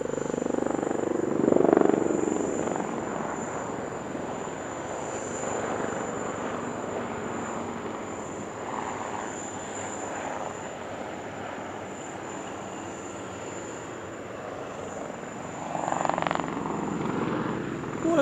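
Display team helicopters of the Sarang team fly their final manoeuvre, the Sarang split, at the Dubai Airshow: a steady rotor and engine drone sustained throughout, with swells of louder passes near the start and end.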